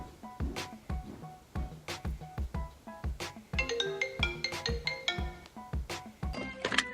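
A phone ringtone plays a repeating melodic pattern of bright, evenly spaced tones, fairly loud and close, shifting into a denser run of notes partway through.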